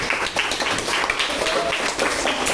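A classroom audience of students claps together, a steady patter of many hands over continuous room murmur.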